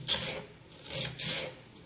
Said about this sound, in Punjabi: ਇੱਕ ਪਿਆਜ਼ ਇਹਨੂੰ ਕੱਟ ਲਾਂਗੇ ਆਪਾਂ।